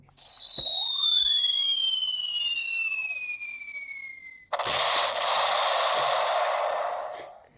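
A cartoon bomb effect: a whistle slides downward and then bursts into a loud crackling kaboom that fills the last few seconds. No one speaks.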